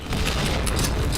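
A grenade blast in the shooter game PointBlank, a dense booming rumble with crackling gunfire-like bursts filling the whole moment, loud and continuous throughout.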